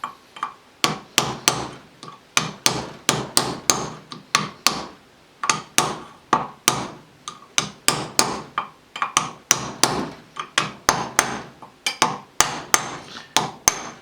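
A sealed ball bearing is driven into a trailer wheel hub with a hammer and punch: a steady run of sharp, close metallic blows, roughly two to three per second, with no talking.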